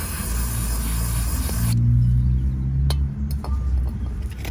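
Brake cleaner sprays on a binding rear brake caliper of a Mercedes W204 C220 CDI. A loud, close hiss runs steadily for under two seconds, then stops, and a few light metallic clinks follow.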